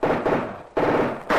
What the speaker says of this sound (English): the machine gun you see, Mr. Knight. Against that, you have no chance.